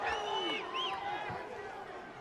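An arena crowd at an MMA bout, B.J. Penn versus Takanori Gomi, roars and cheers in a sustained distant swell. A commentator talks over it.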